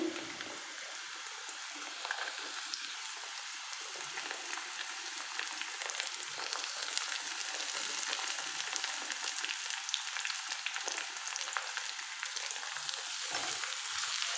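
Ginger frying in a pan for paneer pepper dry, a continuous hissing sizzle heard up close and unbroken for the whole stretch, with faint stirring beneath it.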